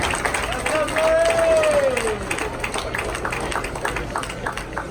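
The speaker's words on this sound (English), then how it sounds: "The applause you hear for Glory Harmon winning the U17 girls." An audience applauds at a youth bowling tournament, a dense wash of clapping that swells early and then settles into steady, slightly softer claps with a crowd murmuring.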